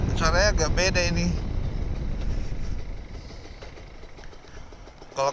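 A Kawasaki Ninja RR 150 two-stroke motorcycle rumbles at a low, uneven idle on a rainy morning ride. A voice opens briefly over it, then the engine carries on alone with a sharp blip at the end.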